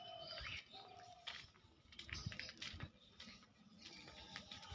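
Pigeons in a pigeon house give faint, intermittent coos and chirps, with light patter and fluttering around them at a low, distant-sounding level.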